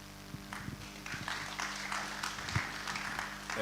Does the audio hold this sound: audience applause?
yes